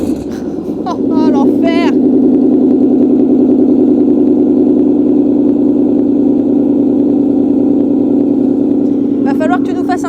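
A Ford Mustang engine catches after a short crank and then settles into a loud, steady, rumbling idle that continues throughout, with brief excited voices near the start and again at the end.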